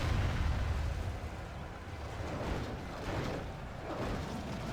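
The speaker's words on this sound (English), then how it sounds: "what siege equipment is firing in" Siege equipment fires during an elves-versus-dwarves battle in a Third Age strategy video game: a dense, continuous roar of battle noise with a heavy low rumble at the start and no clear separate blasts.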